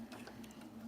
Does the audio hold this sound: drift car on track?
no